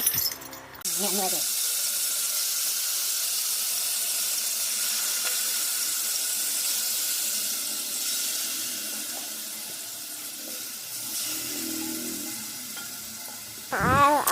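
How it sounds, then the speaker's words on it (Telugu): Marinated mutton for Hyderabadi dum biryani hits hot oil with a loud burst, then a steady, even sizzle runs on for several seconds, with brief clatter at the start and end. "ఇప్పుడు మ్యాగ్నెట్ చేసుకున్న మటన్ అయితే ఆయిల్లో వేస్తున్నాను అనమాట"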